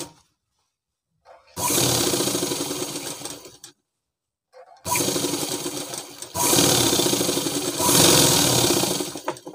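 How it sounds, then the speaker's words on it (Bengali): A sewing machine stitches the sleeve of a girls' school dress in loud, steady whirring runs. Two short bursts are followed by a pause, then a long continuous stretch with slight speed changes. "তো এইভাবে আমি সেলাই করে নেব"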